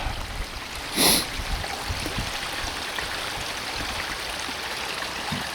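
Water rushes through a pipe in a steady, continuous flow, a close, even hiss broken once by a brief louder splash near the start.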